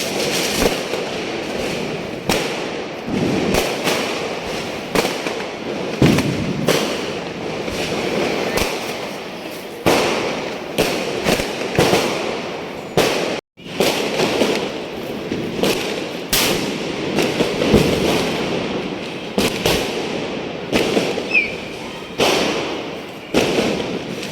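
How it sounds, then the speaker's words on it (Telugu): Diwali firecrackers going off at night, with repeated sharp bangs and thumps over a constant crackling roar, some bursts close and loud, others farther away, for the whole stretch without speech. "ఇక్కడ ఇంకా కిందికి వచ్చేసి క్రాకర్స్ చాలానే కాల్చాము"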